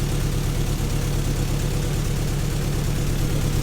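Car with an exhaust leak idling after sitting unused for six months, with a steady, loud, low rumbling drone and an even puffing pulse from the exhaust, close up and constant throughout.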